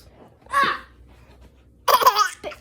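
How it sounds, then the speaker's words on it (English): A small child makes two short forced cough-like bursts, separated by a quiet pause, close and fairly loud. "He's making himself cough."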